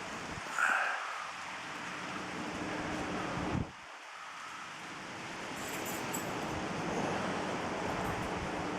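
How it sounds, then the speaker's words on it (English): Steady rain falls outside a rural Ohio chapel, a soft continuous hiss with a brief thump partway through and no talking. "It's been raining all morning today"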